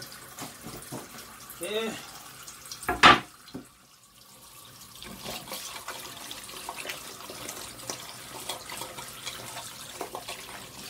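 Tap water runs as food is washed in a kitchen while making a quick soup, a steady wash of splashing that rises after a few sharp clatters. A voice speaks briefly.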